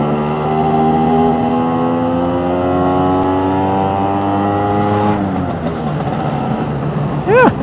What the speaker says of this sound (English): Come on, up in the revs.